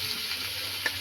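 Village-style local meat is stir-fried in a pot for biryani, a constant close sizzle with a brief stir scrape near the end.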